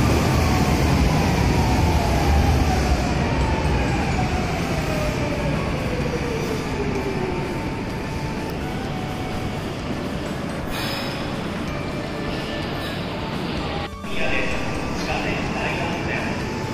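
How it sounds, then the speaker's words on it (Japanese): A Kobe Municipal Subway 3000 series train arrives at a station with a loud, continuous rumble of wheels and motor and a slowly falling whine, and a sharp clack near the end. "こちらが今回お目当ての列車、神戸市営地下鉄3000型という車両です。"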